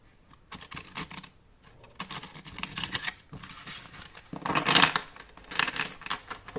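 A brand-new tarot deck being shuffled by hand, crisp papery riffles and slides coming in several bursts close up with short pauses between, with no talking.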